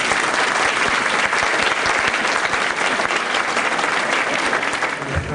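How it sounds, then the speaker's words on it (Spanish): Sustained applause from a business conference audience fills the whole stretch, dense and steady, with no voices rising above it. "Le damos un fuerte aplauso."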